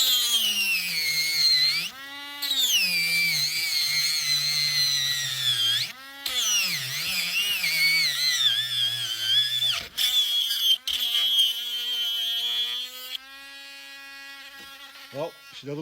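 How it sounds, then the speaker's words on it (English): A power drill whines close up as it bores through material, its pitch sagging under load and recovering, with short pauses between bursts. "Now we're gonna drill the hole into it."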